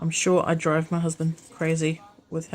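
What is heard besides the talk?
No everyday noise stands out behind the speech.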